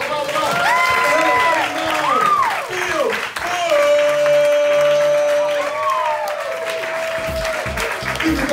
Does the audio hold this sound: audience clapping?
yes